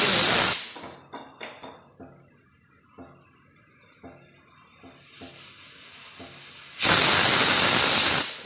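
A pressure cooker cooking beetroot lets off loud, close bursts of steam hiss. A brief blast opens the clip, then a long, sustained rush near the end, with quiet rattling and clicks between them.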